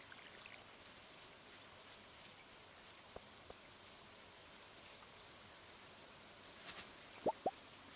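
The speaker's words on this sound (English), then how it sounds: "You guys don't like loud rain?" Rain in the farming game Stardew Valley falls as a soft, even patter with a few isolated drops and plops, faint and continuous, with two sharper clicks near the end.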